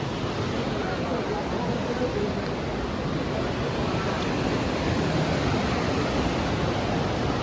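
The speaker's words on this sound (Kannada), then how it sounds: "ಇದೇ ಹಾಟ್ ಸ್ಪ್ರಿಂಗು ಮಣಿಕರ್ಣದ್ದು, ಶಿವನ್ ಟೆಂಪಲ್ ಹಿಂದೆನೇ ಇದು." Hot spring water at Manikaran, behind the Shiva temple, rushes in a steady, dense hiss, like water pouring or tumbling close by, constant and unbroken throughout.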